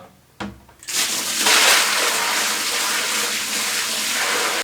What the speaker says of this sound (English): And now we must add the water.